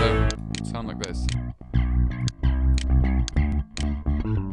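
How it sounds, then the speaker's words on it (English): Two electric bass tracks played together in a Cubase VST-32 session, producing a thick, effected, slightly distorted melodic bass line with sliding notes and punchy attacks, loud and unaccompanied by speech. "So both basses together sound like this."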